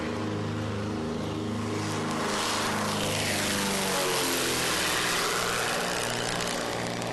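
A small propeller airplane engine drones steadily in flight, loud and continuous, its pitch sliding slowly as the aircraft passes, with no voices over it.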